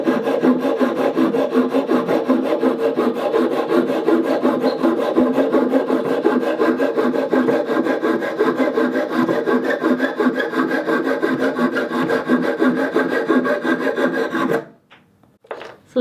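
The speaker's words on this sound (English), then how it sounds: "I'm going to try the mini wood on a carpentry piece of timber" Silky mini hobby hand saw cutting through a carpentry timber piece: steady rapid back-and-forth rasping strokes, loud and close, continuing evenly for about fifteen seconds before stopping abruptly, with no talking.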